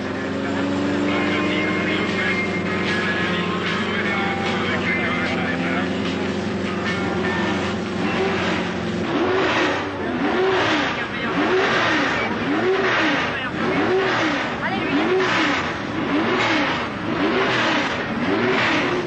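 Group 3 and 4 grand touring race cars, series and special GT, idle loudly at the start line, then engines rev in repeated rising-and-falling surges, dense and close.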